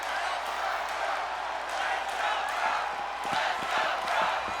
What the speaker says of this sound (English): And the fans are cheering for Riddle this time.